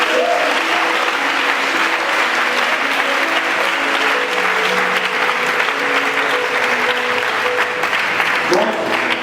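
A church congregation applauds steadily and loudly to acclaim the Lord, a dense sustained clapping with voices and music mixed in underneath.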